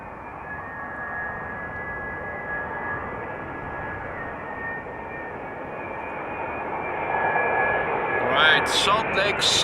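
Delta Air Lines A330neo airliner from Salt Lake City at Amsterdam Schiphol runway 06: a steady, broad jet roar with a high whine, swelling louder near the end, while a voice talks over it.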